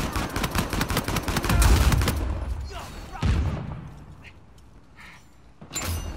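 Rapid bursts of automatic gunfire ring out in Uncharted 4 multiplayer, loud and dense for about two seconds, followed by a heavy thump and fading echoes, with a further burst near the end.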